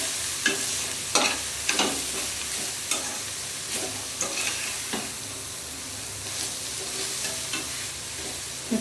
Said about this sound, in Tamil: இது போட்டு கொஞ்சம் மிதமான ஒரு ஃப்ரை தான் பண்ணணும்.